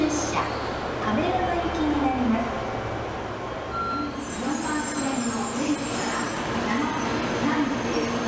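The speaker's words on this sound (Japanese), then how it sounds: "7時36分発普通電車亀山行き。" A JR Central 211 series 0 local train on the Kansai Main Line rumbles steadily with wheel squeal and rail noise, while an announcement plays over the sound.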